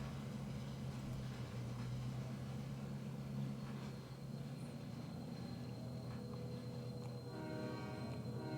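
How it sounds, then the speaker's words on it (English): Train rumble with a sustained horn in a railway management video game, a steady low drone running throughout with tonal horn-like bands, no talking. "now that this train has successfully reached where it actually needed to go originally"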